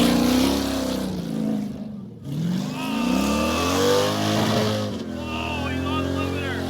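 A car engine revs hard and bounces against its rev limiter, a loud, close, sustained roar with rising and falling pitch and a brief dip partway through.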